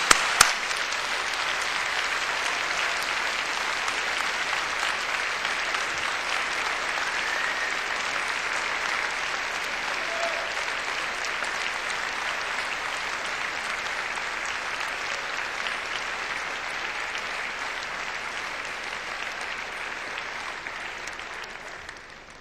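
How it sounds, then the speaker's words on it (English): University graduation ceremony audience giving a long, enthusiastic round of applause, a dense, even roar of many hands clapping that holds steady for over twenty seconds before tapering off. "say a special and public thank you to them all by giving them an enthusiastic round of warm applause"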